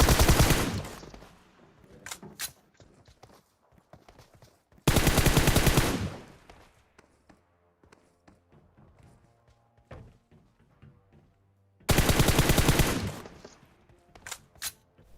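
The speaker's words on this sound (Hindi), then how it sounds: "कोई लोहे के टावर से गोली चलाता है" Bursts of automatic gunfire in the mobile battle royale game PUBG Mobile, three loud sustained volleys separated by quieter stretches with scattered single shots and thuds.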